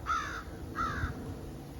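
A crow caws twice, loud and close, with a short gap between the harsh calls and quiet background hiss, outdoors in cold, snowy weather.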